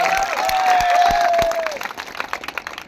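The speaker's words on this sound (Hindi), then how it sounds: "जरा जोरदार ताली बजा करके स्वागत करना" Crowd applause at an outdoor political election rally in Varanasi, a loud sustained burst of clapping and cheering with a voice briefly heard over it, fading into scattered claps toward the end.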